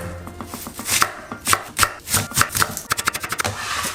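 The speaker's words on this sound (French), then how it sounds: "Je vais déjà couper l'oignon rouge, je le coupe en deux comme ça." A knife chops red onion on a cutting board, starting with a few spaced cuts and speeding into a quick, evenly rhythmic run of sharp taps near the end, close and clear.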